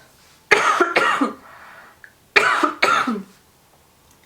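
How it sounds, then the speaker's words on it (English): Two pairs of harsh, close coughs, each a double burst, separated by a short pause, with quiet room tone between. "Excuse me, I have to cough."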